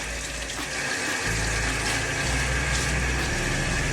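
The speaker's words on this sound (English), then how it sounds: "I put my sink on hot, like super hot water, and my skin gets really hot." Hot water runs steadily from a bathroom sink tap, a continuous close rushing stream that stays loud throughout, its pitch deepening a little as the basin fills.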